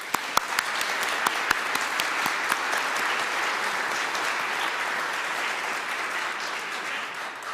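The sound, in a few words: congregation round of applause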